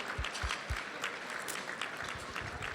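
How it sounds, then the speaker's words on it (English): Gala audience applauding a guest, a quiet, distant patter of clapping under low rumbling thumps near the start, soft and fairly even throughout. "So if we can please give him a round of applause."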